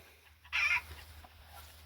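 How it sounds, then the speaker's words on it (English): Hen clucking loudly while laying an egg on a homestead, a single brief squawking burst over a low steady hum of background noise. "Oh, I got a chicken laying an egg."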